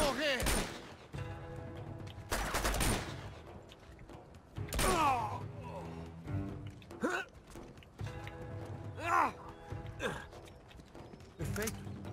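Video game gunfire in sharp bursts of several shots, mixed with other game effects and people talking, in Uncharted 2: Among Thieves.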